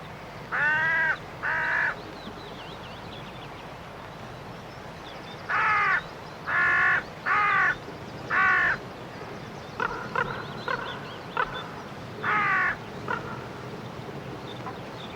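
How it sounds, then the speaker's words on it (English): A crow caws in clusters of harsh, loud calls, two at first and then a run of four, with scattered fainter calls and one final caw over a quiet outdoor background. "A crow seems to sense her fatigue."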